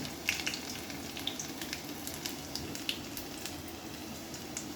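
Garlic and five-spice seeds fry in hot oil, giving a steady close sizzle with scattered crackles and pops.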